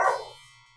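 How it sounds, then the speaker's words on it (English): A dog gives one loud, close bark that rings out and fades over the next half second, with no other sound. "And my dog. Who's very loud."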